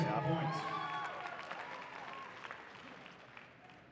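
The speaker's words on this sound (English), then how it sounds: "the crowd erupts with a 10 from Sara Lopez" Spectators at an archery exhibition match cheer and applaud after Sara Lopez shoots a 10, a broad burst of clapping and crowd noise that starts loud and gradually tapers off.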